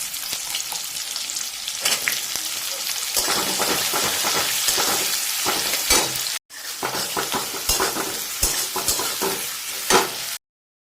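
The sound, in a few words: chopped onions frying and being stirred in a pan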